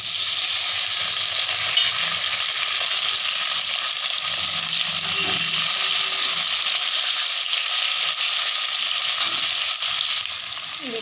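Potatoes fry with chopped onion and tomato in hot oil, making a steady, loud sizzle close to the pan, with faint scrapes of stirring and no talking.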